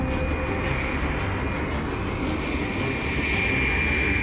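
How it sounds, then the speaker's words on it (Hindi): A cartoon jet plane speeds past as a loud, steady engine roar that fills the whole stretch without a break. "और बाबा उसमें जेट प्लेन को तेजी से लेके चले जाते हैं"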